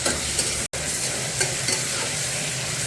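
Chopped tomatoes and green chillies fry in a pan with a constant loud sizzle and regular stirring scrapes close by, interrupted by one very brief silent gap early on.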